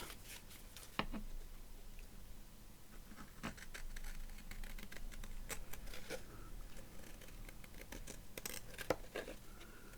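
Soft, repeated snips and crisp paper rustles as scissors trim card for shabby chic ephemera, close and quiet, with irregular cuts spread across the stretch and no voices.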